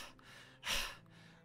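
A person imitates a dog panting with one loud, breathy gasping burst in the middle, set between quieter stretches of hissing breath.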